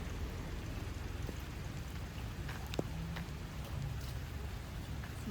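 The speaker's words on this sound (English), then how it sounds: "And it's raining cats and dogs, which is also, frankly speaking, typical of Bangalore." Heavy rain pours steadily on a street lined with gulmohar trees in Bengaluru, a dense, constant hiss with occasional louder drips and splashes, close and without talk.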